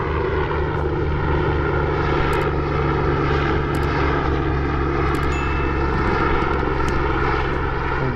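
An airplane passes overhead near the Dnipro river, producing a steady, broad engine drone that fills the whole stretch without fading. No one speaks.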